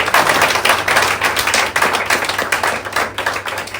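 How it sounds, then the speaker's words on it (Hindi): Audience clapping for Virendra Kumar Bhujwa at a gathering, a dense steady patter of many hands that stays loud and even across the whole stretch, with no talk over it. "वीरेंद्र के लिए ताली हो जाए।"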